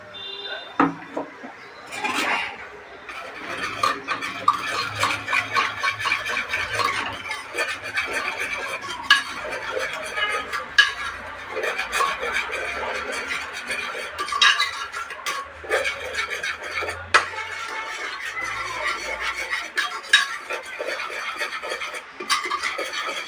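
Mutton being cooked with coconut, ginger and garlic paste in a village kitchen pot, a spoon scraping and stirring with irregular clinks and knocks against metal, steady and close throughout.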